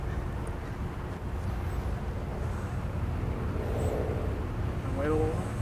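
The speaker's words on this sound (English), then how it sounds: "Wait for that airplane." An airplane passing high overhead outdoors, a broad steady rumbling drone that slowly swells, heard faintly beneath occasional voices.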